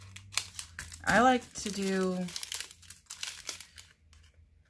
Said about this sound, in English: then you just cut open these bags